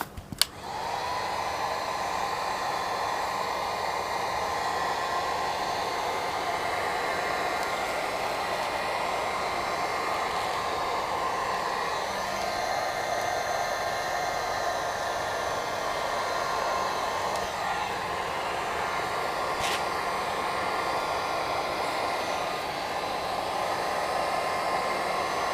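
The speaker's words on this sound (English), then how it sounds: "And then just start using the heat gun again." Heat gun blowing on a Halloween prop, a continuous close, loud whooshing hiss that stays steady for the whole stretch, starting after a brief click.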